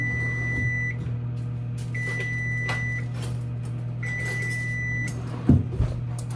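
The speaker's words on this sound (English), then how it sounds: "Let's go back to the microwave again." A kitchen microwave oven hums steadily and close by, with three high beeps over the running drone and a brief clatter near the end.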